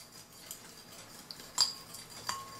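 A spoon mixes a small batch of mixture in a dish, giving soft clinks and a few brighter taps against the container, quiet and close with no talking.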